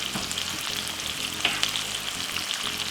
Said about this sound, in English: Give it a nice little stir like this